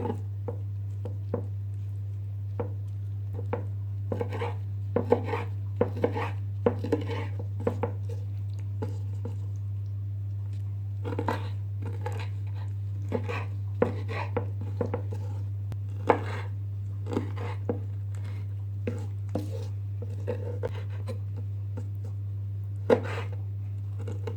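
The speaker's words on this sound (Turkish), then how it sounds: "temizlediğimiz ciğerimizi, zarına ayıkladığımız ciğerimizi şimdi kuşbaşı şeklinde doğramaya başlıyoruz" A knife chops cleaned beef liver, with its membrane removed, into cubes, giving irregular soft knocks and wet thuds on a board over a steady low hum, with no voices.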